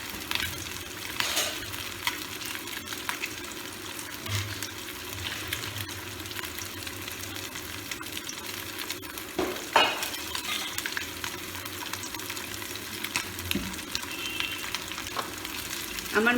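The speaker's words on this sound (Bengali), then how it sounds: "আমার মাছ ভাজাও প্রায় হয়ে এসছে" Fish fries in oil in a home kitchen, a soft steady sizzle with occasional stirring clinks and scrapes, fairly quiet throughout with no speech.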